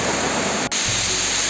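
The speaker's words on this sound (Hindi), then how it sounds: "ए रही संगवारी हो चौथा झरना जेन झरझर झरझर गिरत हे" A waterfall pours down a hillside in a loud, steady, close roar of rushing water, with a brief dropout partway through.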